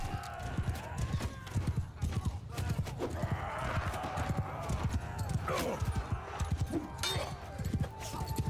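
Horse hooves clip-clop at a steady trot in Mount & Blade II: Bannerlord, a continuous close rhythm mixed with battle noise, while someone talks over it.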